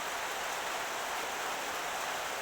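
Steady rain falls in an even, continuous hiss with no break and no voices.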